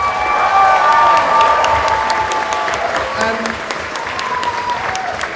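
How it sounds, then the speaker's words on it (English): Sustained applause from a live concert audience at Summer of Sonic 2013, dense clapping filling the whole stretch, fairly loud and steady before slowly easing. "please give us all a round of applause."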